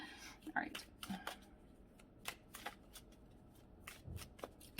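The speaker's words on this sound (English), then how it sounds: "now we can pull some tarot" Tarot cards are shuffled by hand in a quiet room, producing repeated soft riffling and slapping bursts at an uneven pace, faint overall, with a low voice audible at moments.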